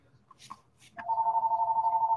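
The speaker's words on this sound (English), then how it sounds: "And the phone kept on ringing too." A telephone rings with a steady electronic trill after a couple of soft clicks, moderately loud and alone in a quiet room.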